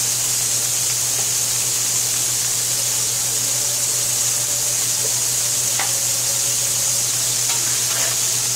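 Garlic stir-frying in a pan for a chop suey, a steady close sizzle with occasional light clinks and scrapes, no talking.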